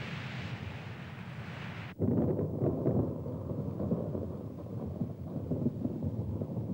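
A coastal thunderstorm brings a loud crack of thunder that breaks into a long deep rolling rumble over a steady wash of rain and wind.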